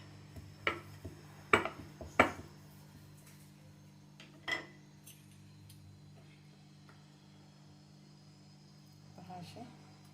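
A knife cuts rolled shankarpali dough into pieces on a board, leaving a few sharp taps and clicks, close and quiet, spaced irregularly over a low steady hum.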